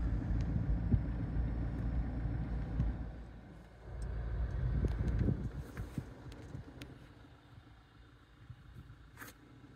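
A Toyota Land Cruiser Prado diesel engine idles after starting, a steady low rumble close by with a brief swell in the middle and a few faint clicks, no talking.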